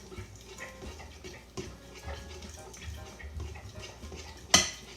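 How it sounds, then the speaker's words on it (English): Spoon mixing Greek yogurt into chocolate mousse in a bowl, soft scraping and clinking strokes repeating irregularly up close, with one sharper clink near the end. "I'm just going to do a few spoonfuls of the Greek yogurt. And then I like to mix it first"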